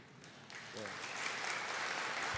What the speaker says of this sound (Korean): 우리 성가대원들 위해서 박수 한번 쳐주실까요?